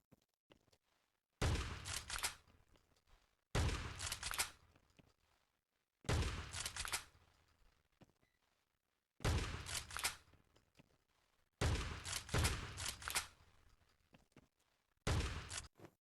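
Shotgun blasts fired at targets in the mobile shooter Scarfall, six sharp booming shots spaced a couple of seconds apart, each ringing briefly before near silence.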